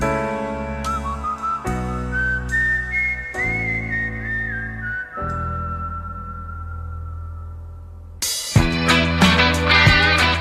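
A strong, clear whistled melody carries over instrumental backing, sliding between sustained notes, before fuller band instruments swell in near the end.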